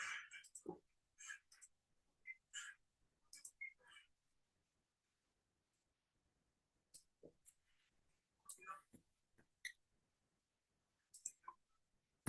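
Sparse computer mouse clicks come in small scattered clusters, short, sharp and fairly faint, separated by long quiet gaps, with a few soft voice-like sounds mixed among them.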